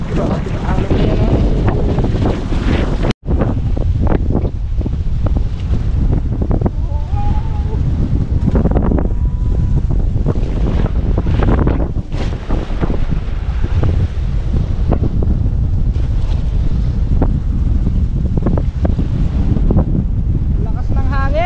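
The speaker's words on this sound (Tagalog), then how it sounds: "lakas ng hangin" Strong wind roars steadily across the microphone on a small fishing boat at sea ahead of an approaching storm, with loud, continuous gusting buffets and a brief dropout near the start, while voices talk faintly underneath.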